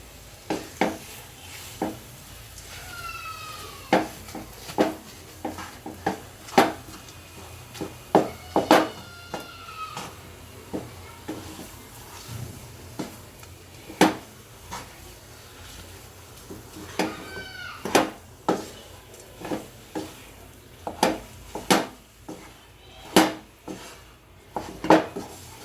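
Coconut being stirred into a date biscuit mixture in a pan: repeated sharp scrapes and clinks of a utensil against the pan, with a faint background hum, and no talking.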